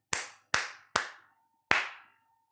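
Four loud, sharp hand claps close to the microphone, three evenly spaced and a fourth after a short pause, each ringing briefly in a quiet room with no talking.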